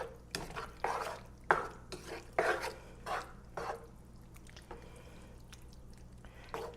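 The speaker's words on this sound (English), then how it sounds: "Mix that all in really good." A pan of sauteed onions, green peppers, mushrooms, diced tomatoes and shrimp is stirred, giving a series of close scraping, squelching strokes in an irregular rhythm that fade to a faint simmer.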